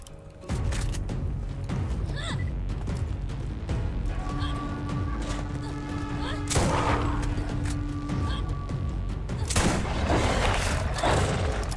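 Shotgun blasts in Borderlands ring out as a series of heavy, punchy reports scattered over continuous game noise, fairly loud and close, with occasional talk underneath.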